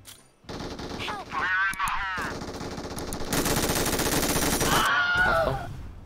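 Rapid bursts of sniper and automatic gunfire in the battle royale game PUBG, loud and near, with sustained volleys in the middle and brief voices between shots.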